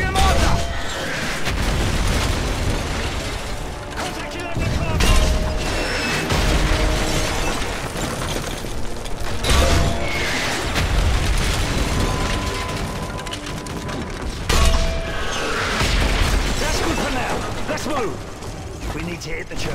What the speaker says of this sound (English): If it moves, put a mortar shell on it.